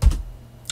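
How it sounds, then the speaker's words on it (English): A couple of quick key presses on a computer keyboard while entering a command, close and crisp, with a lighter click near the end and no talk. "We do that by typing this command given over here"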